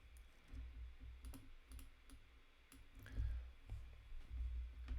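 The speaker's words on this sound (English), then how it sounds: "I'm just typing B for button." Typing on a computer keyboard, a scattered run of light clicks and taps at an irregular pace, close and fairly quiet over a low background hum, with no talking.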